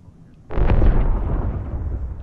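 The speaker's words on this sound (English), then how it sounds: "I heard shooting" Gunfire in the shooter game Apex Legends, a sudden booming burst that hits and then rolls out into a long, loud decaying rumble.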